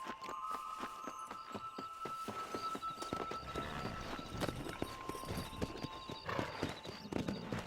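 A horse galloping under its rider in Red Dead Redemption, rapid rhythmic hoofbeats pounding steadily and close throughout, with occasional snorts and a whinny mixed in.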